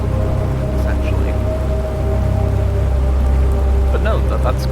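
Steady rain in the open-world survival game Planet Crafter, a continuous hiss of falling drops on surfaces with faint droning tones beneath, alone without talk.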